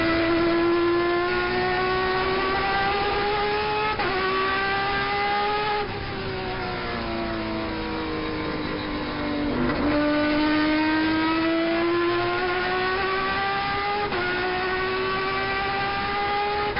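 Turismo Carretera race car engine heard on board during Friday practice, revving hard and climbing through gears with repeated upshifts, a loud steady near roar with no talk over it.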